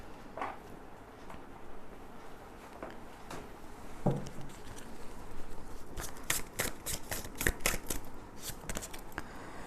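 Tarot cards are handled with soft scattered taps at first, then riffled in a rapid burst of crisp, close flicking clicks toward the end.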